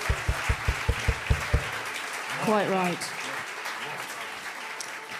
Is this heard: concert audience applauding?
yes